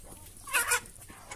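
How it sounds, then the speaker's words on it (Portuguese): A chicken gives a short, sharp double cluck, close and moderately loud against a quiet background, with no talk during it. "Pegar a galinha."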